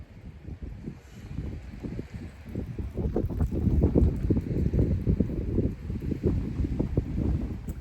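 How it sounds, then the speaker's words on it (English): Strong wind buffets the microphone in continuous low rumbling gusts, loud and close, with no voices. "It's super windy out"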